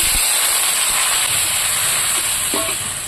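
Water poured into a hot pan of eggs and chili powder hisses loudly and continuously at close range, the steamy roar fading slightly toward the end.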